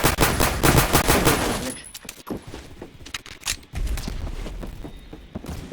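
Rapid gunfire from a fully automatic shotgun in a shooter video game: loud repeated blasts in quick bursts, pausing briefly around the middle, then resuming.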